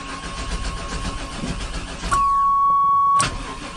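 The engine of a 1996 Chevy Tahoe cranks with a steady starter whir, then fires briefly with a louder surge and a steady ringing tone before it drops back off.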